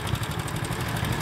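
A motorcycle engine idles close by, a steady low rumbling throb with even rapid pulses throughout the short stretch and no talk.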